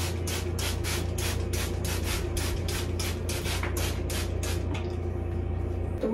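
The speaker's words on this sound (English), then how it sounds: "So I put water in this spray bottle, right? Spray my scalp, and then add some shampoo." Rhythmic rubbing of shampoo into a wet scalp after spraying it with water from a spray bottle, a steady series of close, loud scrubbing strokes that continue almost without pause.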